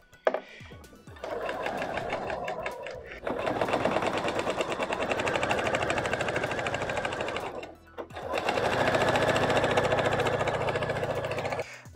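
A sewing machine runs stitching a fabric seam for a wrap-style flowing trouser, in two long steady bursts of rapid needle chatter separated by a short pause, close and loud with no talk.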